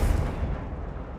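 A short, dense Confringo fire-spell blast from Hogwarts Legacy, a booming burst that hits hard at once and then rolls off over about a second, with no voices.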